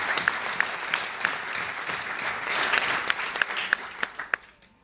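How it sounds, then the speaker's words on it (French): Audience at a dictation contest in Marrakech claps together, a broad wash of applause with a few sharp, close individual claps standing out, tapering off near the end. "Merci de les applaudir."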